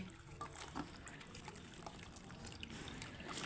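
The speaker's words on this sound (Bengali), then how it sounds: "এখন আমি কচি লতিগুলোকে ভালো করে ধুয়ে নিচ্ছি" Young taro stolons (kochur lati) being washed by hand in water, a faint, continuous trickle and slosh with small splashes throughout.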